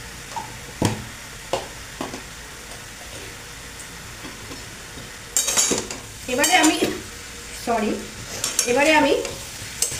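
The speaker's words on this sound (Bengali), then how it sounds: "মশলাটা মিশিয়ে নিচ্ছি ভালো করে।" Spices being stirred into a South Indian potato curry (aloo dum), with a spoon scraping and clinking against the pot in short bursts while someone talks over the cooking.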